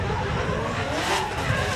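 A drift car with a Mazworks VQ engine runs on a track at a Toronto Motorsports Park drift event, its engine loud and steady with revving and tire skid noise, continuous and close, with faint commentary underneath.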